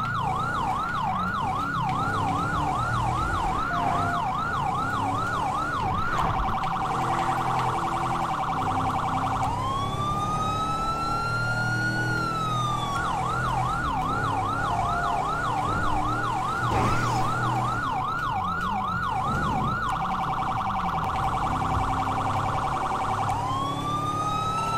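An ambulance siren in the GTA 5 video game wails loud and close for the whole stretch, cycling through fast yelps and slower sweeping tones, with engine rumble underneath and no speech.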